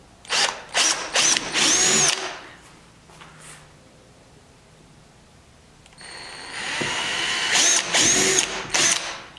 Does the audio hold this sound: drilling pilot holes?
yes